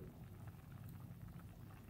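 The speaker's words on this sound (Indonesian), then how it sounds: "Ini sudah mendidih." Spicy lodeh broth of beef ribs and young jackfruit boiling in a pot, a soft, steady bubbling simmer heard alone at low volume.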